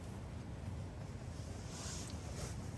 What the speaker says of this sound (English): There's a serious wind coming through.